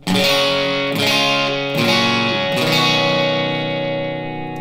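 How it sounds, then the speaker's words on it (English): Clean electric guitar straight into an amp with no pedals, a sustained chord rung out and re-struck a few times, bright and full, each strum left to ring. "Here's the guitar, no pedals."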